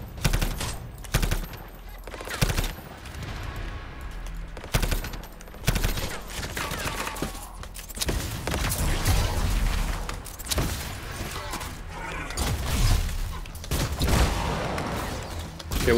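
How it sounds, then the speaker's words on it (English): A marksman rifle in the video game Anthem fires in irregular bursts of sharp, loud shots with echoing booms between them, fairly close and continuous across the stretch, with no talking. "Let's switch to this gun. I like this gun better. The marksman rifle."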